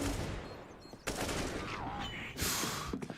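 Rifle fire in a competitive Counter-Strike match, short controlled bursts of shots rattling out in quick clusters, with faint background game noise between the bursts.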